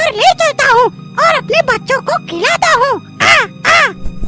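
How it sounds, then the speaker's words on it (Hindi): A cartoon crow caws over and over in a quick, uneven series of loud, close, hoarse calls. "उसी पेड़ पर एक कौवा बैठा था।"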